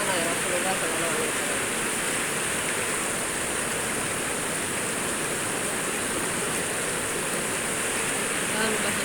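River water flowing steadily during ablution in a river, a loud, continuous rushing wash throughout with no break.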